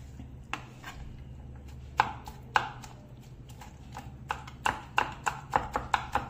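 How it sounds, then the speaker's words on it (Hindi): Kachumber salad vegetables are chopped with a knife on a board, crisp knocks that start sparse and then speed into a quicker run of sharp chops near the end, alone under a low steady hum. "और हम ना इसको ऐसे चाकू की मदद से इस तरह से कट कर लेंगे इसको"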